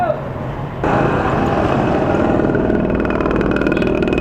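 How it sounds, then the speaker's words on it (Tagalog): A motorcycle engine run on 10W40 oil, recorded on an SJCam action camera with a Boya BY-LM20 lavalier mic, hums steadily and loudly at idle, the sound jumping in level partway through as if the mic shifted. "Okay naman yung andar ng makina."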